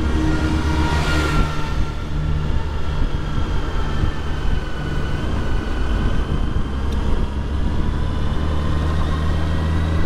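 A 2001 Honda Gold Wing 1800 motorcycle cruises at speed, its steady engine drone and road and wind rumble filling the whole stretch at a constant, loud level with no talk.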